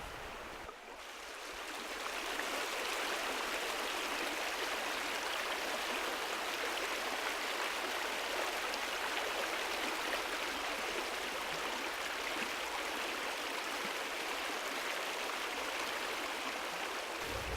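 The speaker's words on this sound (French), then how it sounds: "on a quand même ce bruit de l'eau" Water of a stream in an extraordinary garden, running over stones, flowing steadily and fairly loud in a continuous broadband rush that swells in after the first two seconds and holds without pause.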